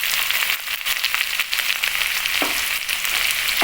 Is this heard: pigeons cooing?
no